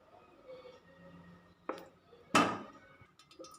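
A pan set on a stovetop for egg biriyani masala, two sharp metallic clanks a moment apart against quiet kitchen background, with a faint light pour of coconut oil suggested afterward.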